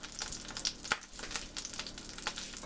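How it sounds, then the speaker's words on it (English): Celery and onions sauté in a hot pan, giving a steady close sizzle with brief crackles and pops and one sharp clink near the middle, heard alone with no talking. "the reason why you want to saute the celery and onions together"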